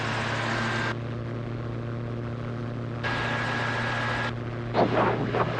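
Small propeller airplane engine in flight during an S turn, a steady droning hum with strong low harmonics that swells slightly as power is added, with a brief rustle near the end and no talk.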